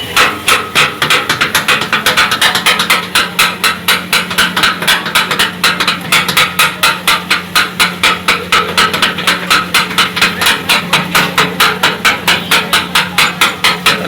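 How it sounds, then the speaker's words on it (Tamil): Parotta being chopped on a hot griddle for kothu parotta, with metal blades striking the flat iron in a fast, steady, relentless rhythm of loud clanks that runs on without a break. "அதுக்கப்புறம் கொத்த வேண்டியதான்."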